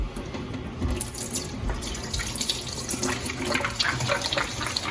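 Tap water runs steadily into a sink for a soap lather test with deionized water, a continuous splashing hiss that stays fairly even and close throughout, with no talking.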